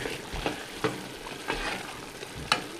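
Yoruba-style egusi soup with a pepper mixture bubbles and sizzles in a pot, a continuous close simmer broken by a few sharp clinks and stirring scrapes, with no talking.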